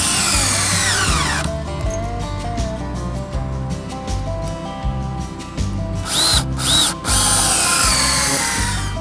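A power drill whines loud and close, driving screw fasteners into an old log during an 1880 log cabin restoration, with repeated bursts, brief pauses and speed changes as each screw sinks.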